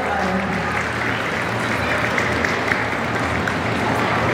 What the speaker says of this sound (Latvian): Ar aplausiem sakam paldies audzētavai Inspērlēnai.